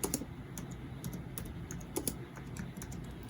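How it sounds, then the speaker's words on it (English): Rapid, light clicks of keys being tapped on a computer keyboard, steady and close, with no talking. "then you go over here, right here, and you start typing"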